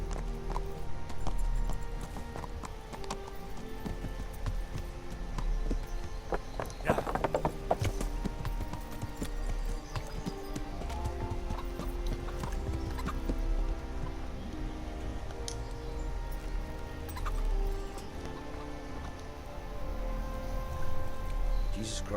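Horse hooves clip-clopping steadily in the medieval game Kingdom Come: Deliverance, a continuous rhythmic trot with faint rain-like patter and occasional louder clatter, heard without speech.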